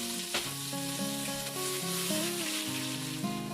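An onion sautés with green and black cardamom, black peppercorns and cumin seeds in a pot for chicken and vegetable pulao, giving a steady close sizzle with broadband crackle while background music plays beneath.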